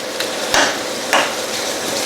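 Vegetables for a vegan base gravy cook in a pan, giving a steady broadband sizzle with two brief clinks of a utensil, loud and close with no talking.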